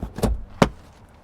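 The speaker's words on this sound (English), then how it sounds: "To fold the third row down, this is how all SUVs should be." Third-row seat of a 2026 Hyundai Palisade XRT PRO folded down by hand, two quick close mechanical clunks, a latch release then the seatback slapping down, with no motor sound.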